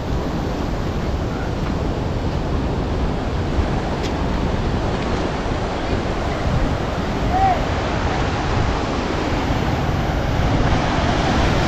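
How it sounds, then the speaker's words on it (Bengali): Water rushing out of a dam through a canal by a lock gate, a steady broadband roar like constant surf, continuous and moderately loud with faint wind on the microphone. "আর এই ক্যানেলের মাধ্যমে জলগুলো এখান থেকে বেরিয়ে যাচ্ছে।"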